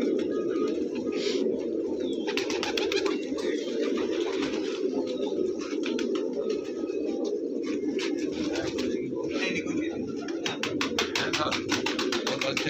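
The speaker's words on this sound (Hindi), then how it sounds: "सब्ज मैना कबूतर छोटीदार।" Spotted Sabz Maina pigeons coo continuously in a loud, dense chorus, a steady low warbling throughout with occasional brighter chirps and flutters mixed in.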